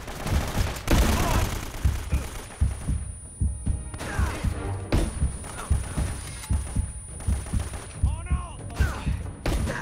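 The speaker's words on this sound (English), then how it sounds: "Where am I getting shot?" Gunfire in the video game Uncharted: Drake's Fortune, with repeated shots and bursts hitting steadily throughout, loud and close, with game ambience underneath and brief speech mixed in.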